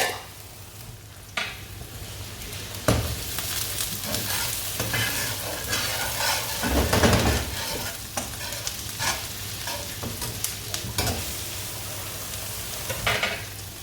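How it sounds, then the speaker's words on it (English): Ginger frying in a pan for ampalaya con carne crackles with a busy sizzle, broken by several louder scrapes and stirs of a utensil against the pan, with no one talking. "Add some ginger. Just cook that down for a while."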